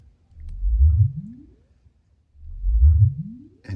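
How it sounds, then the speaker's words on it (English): Low-frequency sweep test tone plays through speakers and a subwoofer in a room, two rising tones each gliding upward over about a second, separated by silence, with a brief click at the end. "Let's try a long sweep."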